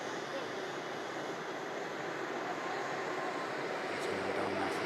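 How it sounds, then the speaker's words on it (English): An Airbus A330 arriving from Faro taxis past at Manchester Airport, giving a steady, fairly loud broadband jet roar that holds throughout and swells slightly toward the end. "then we'll bring our attention to the 330 taxiing past us."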